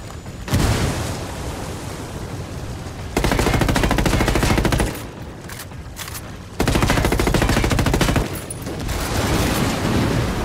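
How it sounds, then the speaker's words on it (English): Automatic weapon fire in the Ghost Recon Wildlands video game, loud sustained bursts alternating with slightly quieter stretches of continuous shooting, dense and unbroken throughout. "That was some good shooting."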